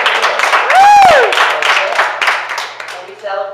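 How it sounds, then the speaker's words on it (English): A church congregation claps and cheers after giving thanks for 70 years of marriage. A rising whistle-like whoop cuts through dense, steady clapping, with voices mixed in throughout. "Clap your hands for that."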